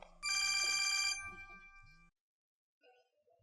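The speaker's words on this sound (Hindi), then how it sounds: "यार ये किस टाइम पे फोन आ गया?" A telephone rings loudly up close with a bright, trilling electronic bell for about a second, then decays and cuts to silence, followed by a faint muffled sound.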